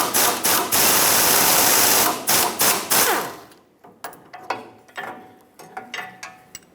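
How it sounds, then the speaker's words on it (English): An 18mm open-ended wrench works loose the mounting nut on a front sway bar link of a Ford E-350 Super Duty: a dense, steady metallic whir for three seconds, then a run of sharp, separate clicks and taps close by. "grab an open-ended wrench, hold this square cutout so I can finish removing my mounting nut"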